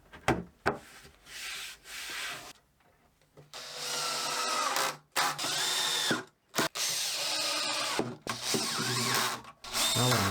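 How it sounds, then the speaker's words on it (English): A power drill drives copper screws into a wooden cabinet built from scaffold boards, in several bursts of whirring and grinding separated by short pauses, close and fairly loud. "Secure it with copper screws"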